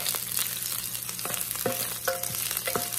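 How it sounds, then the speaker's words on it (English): Onions saute in a hot pan over high heat while preparing a rump roast, a close, busy sizzle broken by several scraping stirs and clicks of a utensil over three seconds, with no talking. "I'm just gonna add a few onions and I'm going to saute them just to add flavor to the pan."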